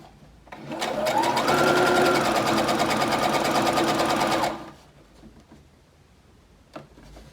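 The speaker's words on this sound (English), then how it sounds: "start in a couple of millimetres from the edge and a couple of stitches and then reverse back and sew the seam down" A sewing machine stitches a seam in one steady, fast run of about four seconds, close and clear, then stops, leaving quiet room tone with a faint click.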